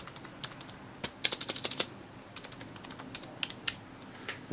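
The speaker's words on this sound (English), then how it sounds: "keystrokes are nice" Keys clatter on a Logitech illuminated computer keyboard, in quick clusters of crisp clicks with short pauses between bursts, close and fairly quiet.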